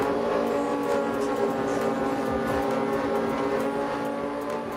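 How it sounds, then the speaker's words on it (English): A monster four-wheel-drive VW Mark IV Golf race car at Bug Jam 2013 drag racing, its engine a loud, sustained, steady roar held near throughout with no pauses. "Here we have VW Pro racer Danny Hyman in his monster four-wheel drive Mark IV Golf"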